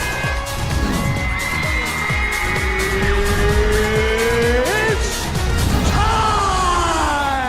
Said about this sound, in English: Oh, you got ran over by a car.